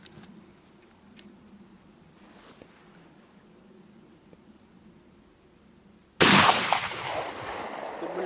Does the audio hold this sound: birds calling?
no